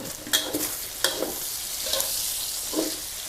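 Bacon stir-fries in a pan with lard, a soft continuous sizzle broken by several scraping stirs of the spatula, close and fairly quiet with no talking.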